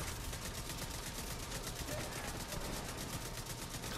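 Continuous rapid gunfire from a firefight in the video game The Division 2, dense bursts layered over one another and loud throughout the whole stretch with no pauses.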